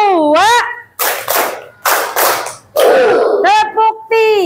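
A class of children does a rhythmic clapping chant, sharp bursts of clapping alternating with loud sung chant phrases from a leading voice and the group.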